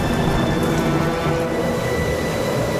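Heavy tropical rain pours down in a steady, loud, dense hiss of drops striking surfaces, unbroken for a few seconds, with no voices.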